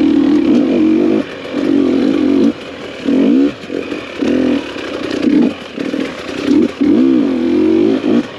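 A carbureted two-stroke dirt bike engine labouring as the throttle opens, a loud buzzing drone that repeatedly swells and drops in uneven bursts, close by with no voices.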